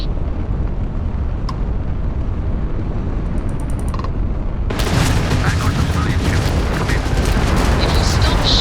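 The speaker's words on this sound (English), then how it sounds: "The ship's weapons are powering up." Spaceship weapons fire in the Starfield video game: a quiet ambient lead-in, then an abrupt, loud, sustained barrage of booming blasts that fills the rest of the clip.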